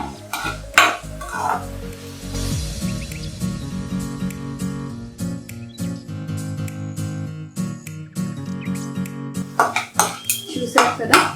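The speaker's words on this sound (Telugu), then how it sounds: "మనం ఇవి మాడిపోకుండా ఇలా తిప్పుతూ ఉన్నాం." Tempering spices and cashews stirred in a pan on low heat for ghee upma, with steady scraping and clinking of a spoon against the metal and a soft sizzle, loud and close, with no talk.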